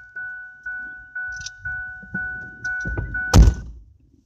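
Inside a car, a steady electronic chime pulses repeatedly, then the car door shuts with a single solid, close thunk near the end.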